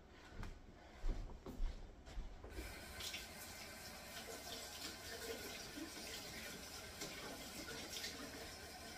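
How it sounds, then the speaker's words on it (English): Tap water runs steadily into a sink as a cabbage is rinsed, a continuous close splashing hiss with a few louder bursts of water hitting the leaves at the start. "I'm going to give it a quick rinse off."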